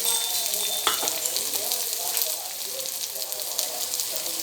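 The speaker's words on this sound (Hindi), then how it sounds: "अब हम इसमें प्याज ऐड करेंगे।" Onion fries in hot oil over a high gas flame, a loud, dense crackling sizzle that continues steadily from start to finish, with a sharp clink near the start.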